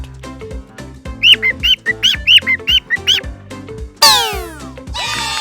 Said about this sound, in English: Here you see one bird.